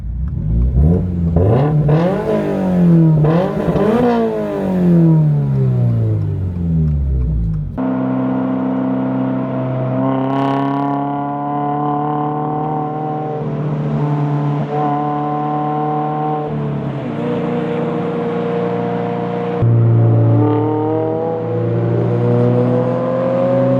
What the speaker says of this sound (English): Alright guys, so now I'm driving the Subaru.